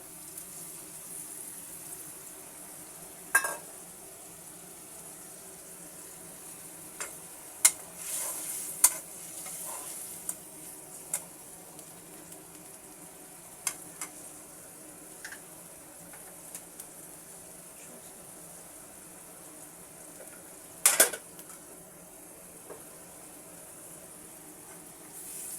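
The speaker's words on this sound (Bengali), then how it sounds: "এবার আমি দিয়ে দেব কেটে বেছে রাখা চিংড়ি মাছ।" Cut shrimp fry quietly in a pan with a soft continuous sizzle, broken by scattered sharp clicks and taps of a utensil against the pan, including a louder cluster about two-thirds through.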